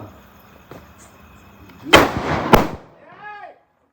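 Two sharp Diwali firecracker bangs go off close together at night, followed by crackling debris and a short whistling sound as the noise dies away into silence.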